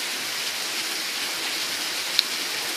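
Steady rain falling outdoors on a July day, a constant even hiss of drops on surfaces with one brief sharp drip standing out, no voices.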